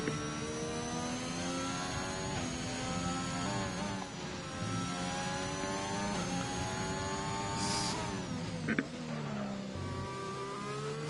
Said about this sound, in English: appear like we have actual F1 car sounds